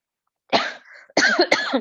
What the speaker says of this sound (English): I usually cough when I side lie on my right side